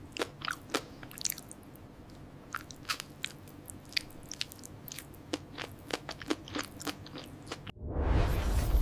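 Biting and chewing crunchy freeze-dried Monthong durian: a rapid, irregular run of close, crisp crunches and snaps for several seconds, ending in a louder rushing burst.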